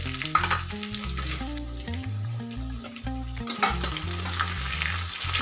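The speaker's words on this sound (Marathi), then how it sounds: "त्याच्यामध्ये घालायची थोडीशी मोहरी, थोडेसे जिरे घालायचे" Mustard seeds and cumin sizzle in hot oil, with ginger-garlic paste in the pan, for a cauliflower sabzi; a steady, close frying hiss with a few sharper crackles and a low hum underneath, no talking.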